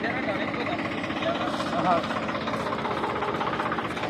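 A tractor hauling a trailer loaded with harvested pearl millet drives past on a farm with a steady, loud engine drone and rumble that holds constant throughout.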